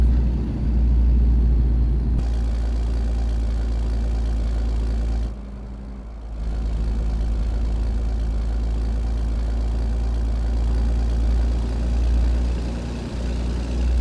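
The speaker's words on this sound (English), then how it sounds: "See what it sounds like outside of the truck." A truck engine in American Truck Simulator, heard from outside the truck, idles with a steady low rumble, with a brief dip in loudness midway before the drone resumes, heavy in the low end.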